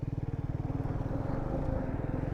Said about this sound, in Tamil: இப்போ பைக்கு போகுதுப்பா